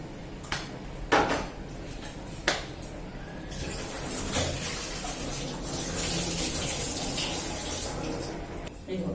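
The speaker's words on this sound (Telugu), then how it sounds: "ఇది కైమా కడగడం అయిపోయింది." Tap water runs steadily while minced meat (keema) is washed in a kitchen sink for chicken biryani, with a few louder splashes and clatters near the start and a constant rushing flow throughout.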